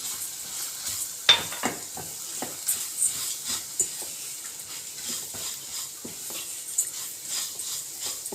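Barley vermicelli toasts in a pot for Turkish arpa şehriye soup, giving a soft frying sizzle broken by irregular scraping clicks as it is stirred. The sound stays fairly quiet, with no talking.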